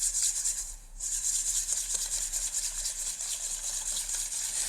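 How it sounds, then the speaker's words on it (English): A whisk beats caster sugar into egg yolks in a bowl for Hong Kong egg tart custard. It makes a steady, close, scratchy rubbing that runs on without a break, with no voices. "we're going to add the caster sugar to the egg yolks and whisk that in"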